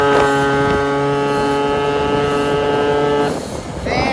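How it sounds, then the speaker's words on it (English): A Vento motorbike engine revs high and steady, with a strong droning whine and wind rush while riding, then dips briefly and climbs again near the end. "you can hear the engine revving so much higher now"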